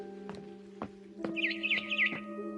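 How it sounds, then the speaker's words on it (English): A barn swallow chirps in the game What Remains of Edith Finch, giving a quick run of high twittering notes. A steady low hum and soft periodic ticks run underneath. "Then I heard chirping outside my window."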